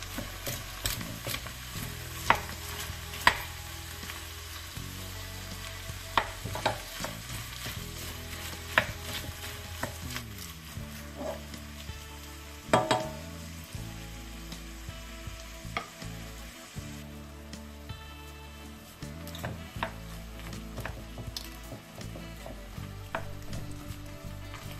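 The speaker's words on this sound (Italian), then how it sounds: "Adesso inseriamo le teste e i carapaci di gambero, perché dobbiamo farle rosolare insieme alle verdure." Shrimp heads and shells browning with chopped vegetables in a hot pan, a steady close sizzle broken by frequent clacks and scrapes of stirring, with no voices.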